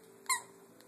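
A dog squeaks a squeaky toy once, a short sharp high-pitched squeak close by in a quiet room, followed by a faint second squeak.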